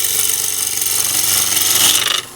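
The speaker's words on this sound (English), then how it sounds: "sheer cut with the long face of this gouge" A long-edged gouge makes a shearing cut on a spinning wood bowl blank on a lathe, giving a loud steady hiss and scrape that swells briefly, then drops away abruptly near the end.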